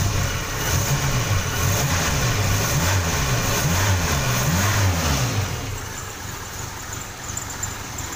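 A small Suzuki Jimny 4WD engine runs close by, its idle wavering up and down in pitch before settling into a quieter, steadier hum.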